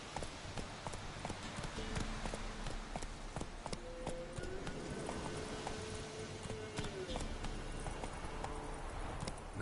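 Roach the horse gallops in The Witcher 3, rapid rhythmic hoofbeats clip-clopping steadily over game ambience, with a brief snort or whinny midway and no speech.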